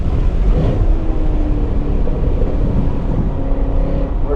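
A Chevy SS muscle car on a race track gives a steady, loud engine roar under throttle, continuous and close from inside the cabin, with no clear speech.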